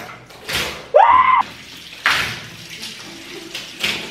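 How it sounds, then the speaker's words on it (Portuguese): Water is thrown from a bucket while a bathroom is washed, giving several short, loud splashes and sloshes a second or so apart. A brief squeak or clatter sounds between them. "Eu jogo água em tudo mesmo"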